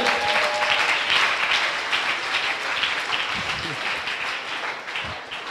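A congregation applauds steadily through a church worship service, with dense, sustained clapping that fills the space, loud and continuous, and voices faintly mixed in beneath it.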